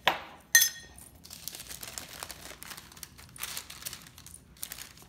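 Wax paper crinkling and rustling as spices are poured from opened jars onto it, with a couple of sharp clinks of glass jar lids at the start, then a steady soft crackle.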